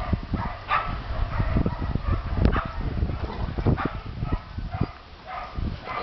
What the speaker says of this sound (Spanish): Qué perrito más bueno.